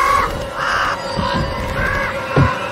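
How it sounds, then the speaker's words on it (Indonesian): Crows caw repeatedly, several harsh calls in a loose rhythm, fairly close and loud over a soft steady background hum. "beberapa burung gagak keluar dari mulut Galpin"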